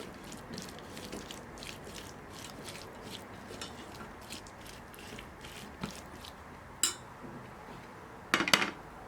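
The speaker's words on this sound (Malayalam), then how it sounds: "ഒരു 3 ടേബിൾ സ്പൂൺ മസാല ചേർത്ത് കൊടുക്കുന്നുണ്ട്. നന്നായിട്ടൊന്ന് മിക്സ് ചെയ്ത് കൊടുക്കുക." Spoon stirring masala into a vegetable curry in a pan, a run of quiet rhythmic scraping and clicking strokes followed by a couple of sharper clinks of utensil on metal near the end.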